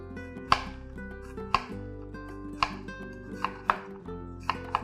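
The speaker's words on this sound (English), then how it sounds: "If I use the middle of my knife, I'm going to cut all the way through the onion" A knife chops vertically down through an onion on a board, landing five sharp, evenly spaced cuts about a second apart, close and clear with no talking.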